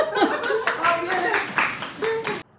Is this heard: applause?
yes